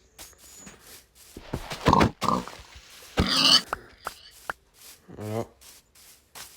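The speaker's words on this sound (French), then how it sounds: "En plus, c'est un cochon." Minecraft pig grunts in a hardcore Bedrock survival game, short low snorts scattered among a player's French chatter and game clicks, moderately close.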